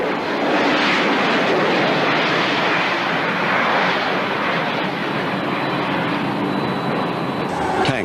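Military aircraft flying airborne units and supplies into East Germany, a steady, loud, broad roar holding evenly throughout, with no talking.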